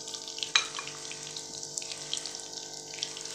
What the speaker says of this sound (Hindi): ऑयल जैसे हमारा गर्म हुआ इसमें मैंने एक बड़े साइज़ की प्याज डाल दी है